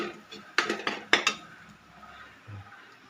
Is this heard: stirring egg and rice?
yes